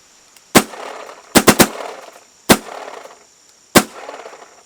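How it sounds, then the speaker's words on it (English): Paintball markers, among them the Luxe X, Syx, DSR and 170R, fire five loud, sharp shots close by: one, then a quick burst of three, then two more singles, each with a short ringing tail. "It's definitely the loudest gun that I seem to own at the moment"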